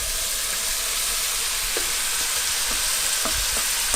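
Sausage and ricotta sizzle in a pot of softened vegetables, a constant bright hiss of frying with a few soft thuds and scrapes toward the end.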